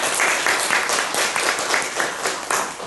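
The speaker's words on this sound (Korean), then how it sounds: "박수 보내주시길 바랍니다." A congregation applauds during a Sunday church service, with a sustained wash of many hands clapping that swells slightly in waves at moderate loudness.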